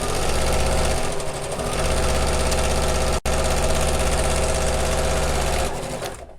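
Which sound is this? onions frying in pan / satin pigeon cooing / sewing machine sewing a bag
sewing machine sewing a bag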